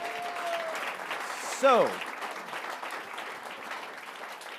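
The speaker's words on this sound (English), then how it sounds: "let's give him a big round of applause, please" Audience applause at an evening talk event, a steady wash of clapping from a crowd that carries on under a brief spoken word and a short whoop partway through.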